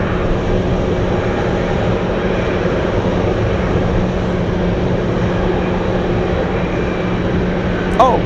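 A UPS Boeing 767 cargo plane taxiing to the runway at Anchorage gives a loud, steady jet engine roar and hum that holds throughout, with gusty wind adding to the wash of sound.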